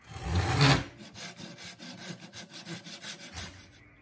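Handsaw cutting through a wooden dowel for a flexible doorstop: a loud initial scrape, then a quick regular run of back-and-forth rasping strokes, close up and alone.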